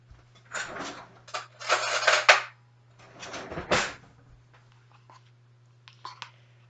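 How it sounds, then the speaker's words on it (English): Clattering of a kitchen drawer being opened and a metal spoon being fetched from it, a few close rattling bursts and clinks with pauses between, over a steady low hum. "let me get a spoon"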